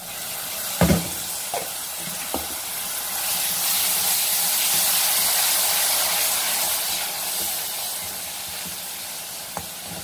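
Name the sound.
ground tomato and green chili added to hot pan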